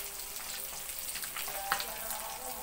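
Freshly caught river fish from the Mahakam fry in hot oil, giving a steady, close sizzling hiss with faint pops and crackles.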